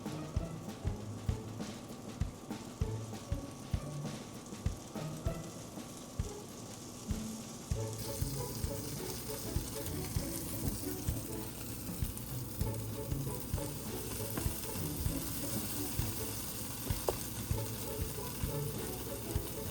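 A grilled cheese sandwich frying in a pan, a soft steady sizzle with occasional scrapes and taps of a utensil, moderately quiet throughout.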